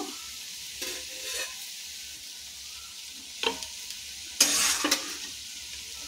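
Karapusa fried snack mix being stirred in oil for Karnataka girmit, with a few brief bursts of scraping and sizzle against a quiet background.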